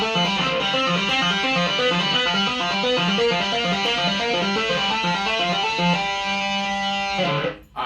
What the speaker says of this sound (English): So it starts off like the old one did with the tapping, which sounds like this.